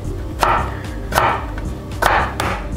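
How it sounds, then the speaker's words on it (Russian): Four crisp knife strikes against a cutting board as a cucumber is cut into sticks, evenly spaced, close and fairly loud, with no voices. "А огурец нарежу брусочками."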